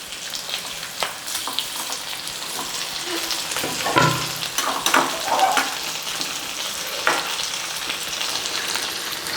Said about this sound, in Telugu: ఆనియన్ మసాలాతో పాటు టమాటా కూడా ఫ్రై అవుతుంది.